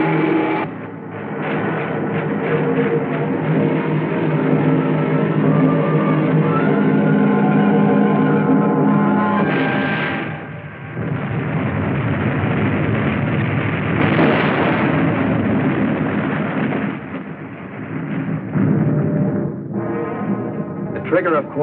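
Deep, rumbling depth charge explosions in an old Hollywood submarine war film, long loud booming roars that swell and fade, with a brief dip before another sustained blast.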